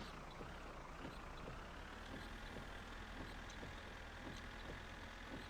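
A tractor engine runs in the driving game My Summer Car, a low steady rumble with a regular chugging pulse, constant in level and heard alone without talk.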